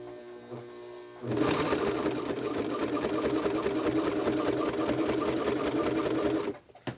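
A Brother 2340CV coverstitch sewing machine stitches a round fabric patch, its motor starting after a quiet second and running in a fast, steady, loud mechanical chatter for about five seconds before stopping abruptly.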